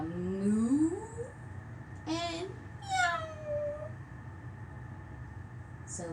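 A voice imitates a cow's low, drawn-out moo followed by two cat-like meows, with a short rising sound at the end, over a faint background hum, as part of a children's movement and breathing exercise.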